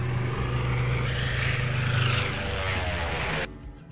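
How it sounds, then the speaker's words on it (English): A biplane's propeller aircraft engine drones loudly and steadily, rising in a broad whooshing pass before cutting off suddenly. "Biplane."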